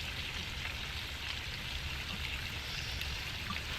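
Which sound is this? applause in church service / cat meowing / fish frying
fish frying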